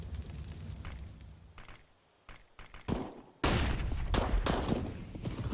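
Grenades and gunfire in Counter-Strike on the Inferno map during a pro match, with scattered sharp shots early, then a sudden loud burst of explosions and rapid gunfire that fills the rest.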